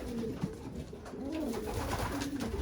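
Breeder pigeon hens coo softly inside a loft, several low rolling calls repeating over a couple of seconds against a faint background hum.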